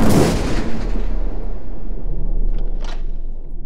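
A heavy, booming gunshot with a long rumbling decay, followed by a faint crackle near the end.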